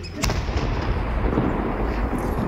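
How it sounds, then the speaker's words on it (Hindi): A single loud, sharp blast from an IED detonated by security forces during defusal in Baramulla, Jammu and Kashmir, followed by a rumbling, noisy outdoor tail. "आप इस धमाके की आवाज जरा सुनिए जब इसे डिफ्यूज किया गया।"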